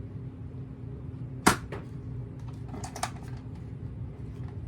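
A Nerf gun trigger clicks sharply once, followed a little later by a fainter second click and some light plastic handling, close up in a quiet room.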